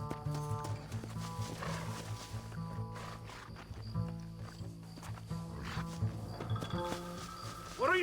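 Horses in the Western video game Red Dead Redemption move amid a busy mix of hoof clatter, snorts and rumbling, layered under voices and background game sound, with a sharper burst near the end.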